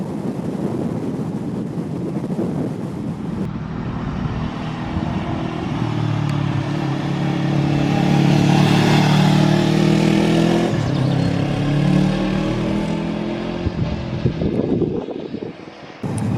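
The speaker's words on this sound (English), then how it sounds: "I said it's an A2 licence bike, but it definitely isn't slow." A Lexmoto LXR380, an A2 licence sports motorcycle, accelerates on the road. Engine tone climbs and holds through the gears for several seconds under heavy wind rush, then eases off, with no voices.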